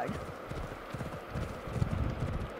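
Hoofbeats of a galloping horse in Assassin's Creed Odyssey pound in a quick, continuous rhythm, close and moderately loud, with some background game noise.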